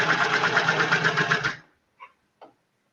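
A serger trims and sews a cuff seam in a steady, loud, rapid mechanical whirr for about a second and a half, then stops abruptly, leaving two faint small clicks.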